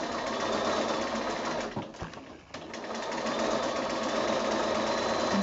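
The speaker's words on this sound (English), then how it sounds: "and just keep sewing" A sewing machine stitches quilt binding at close range, a fast continuous buzzing run with a brief slowdown and pause partway before it picks up again.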